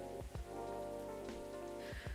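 Rain falls steadily in the video game Coffee Talk 2, a soft continuous patter under a low musical drone, punctuated by a few soft thuds.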